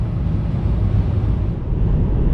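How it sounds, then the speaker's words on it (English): Strong wind on a bridge in Denmark buffets the microphone with a continuous low rumbling roar, rising and falling slightly in gusts. "Just keep getting gusts of wind blowing."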